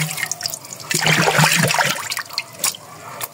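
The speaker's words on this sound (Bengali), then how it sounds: "এই যে এখন ওষুধটি আমি মিক্সচার করব, ঢেলে দিলাম।" Liquid pesticide is poured into a container and mixed for ginger seed treatment, giving a close, steady splashing pour that swells and then trails off into scattered drips and trickles.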